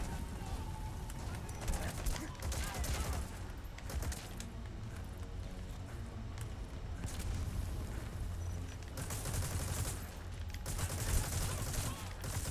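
Third-person gunfire in Metal Gear Solid V: The Phantom Pain, with bursts of shots and impacts over game background noise, mostly faint and scattered through the stretch, while a person talks over the gameplay.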